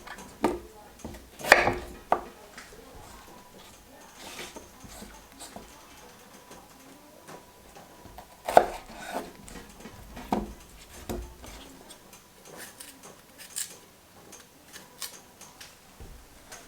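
A knife chops food on a board in a home kitchen, with scattered irregular cuts that are sharp but fairly quiet, sometimes spaced several seconds apart, over a faint background hum.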